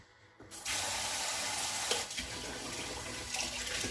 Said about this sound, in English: And now I'm going for my cup of hot water.